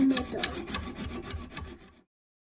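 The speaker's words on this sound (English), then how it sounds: "daddy sawing it right down the middle" A saw rasps back and forth in quick, rough strokes through metal toilet bolts, close by and alone, stopping abruptly after about two seconds.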